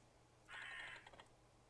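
A single crow caws once in the Rusty Lake Roots puzzle game, a short raspy call rising over a quiet, faintly humming background.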